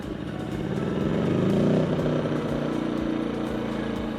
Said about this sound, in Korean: 이 버튼을 2초간 누르시면 자동으로 시동이 걸리게 됩니다.